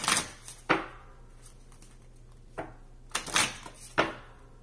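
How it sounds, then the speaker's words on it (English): Tarot cards being shuffled by hand, a series of sharp riffling bursts separated by short pauses, close and fairly quiet over a low steady hum. "One more shuffle."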